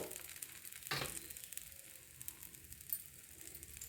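Chickpea masala dosa frying in oil on a pan gives a soft, steady sizzle, faint and continuous. A brief louder scrape or rustle cuts in near the start.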